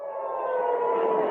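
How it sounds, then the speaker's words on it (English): An air raid siren sounds in a city in Israel, a loud, steady mechanical wail that holds throughout with no speech over it. "Air raid sirens were activated in cities across Israel, and people were told to take shelter."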